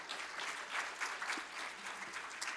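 A church congregation claps together during a Sunday service, a soft, steady patter of many hands that sounds distant and quiet with no voices over it.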